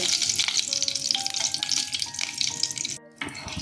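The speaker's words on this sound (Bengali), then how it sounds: "এবার তেলের মধ্যে এলাচ, দারচিনি, শুকনো লঙ্কা, লবঙ্গ ফোড়ন দিয়ে দেব।" Whole cardamom, cinnamon, dried chili and cloves crackling in hot oil, with a busy sizzle and a scrape, then a brief cut before the frying resumes.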